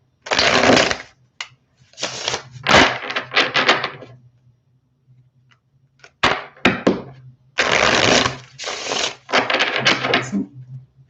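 Tarot cards shuffled by hand in bursts of riffling and sliding, close and crisp, with short pauses between shuffles and no talking.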